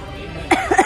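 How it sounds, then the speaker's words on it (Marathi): A person coughs two or three times in quick, close bursts after a moment of quiet room noise. "माझा खोकला येतोय मध्ये मध्ये"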